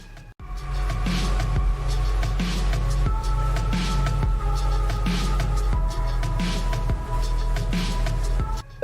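A steady instrumental music track, unused in the Roblox-style game DOORS, with a pulsing low beat, sustained tones and bright percussive hits, playing continuously with no voices.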